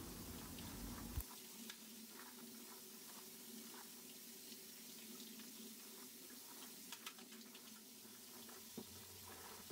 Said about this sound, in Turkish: Bol su yardımıyla temiz olana kadar yıkayalım.